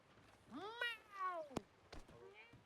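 A cat meows, two or three drawn-out rising and falling calls close by, with a sharp thunk in the middle and quiet background.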